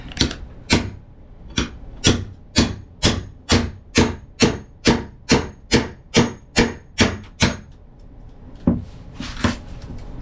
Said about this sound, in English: I'm going to see what happens when I chisel first